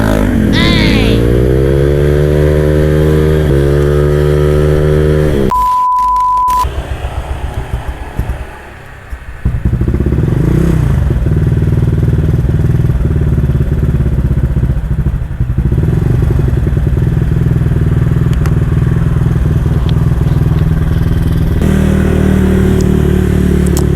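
A Honda Vario scooter bored up to 163cc revs hard and steadily with a loud, close engine roar, briefly cut off and then rising again, with voices talking over it.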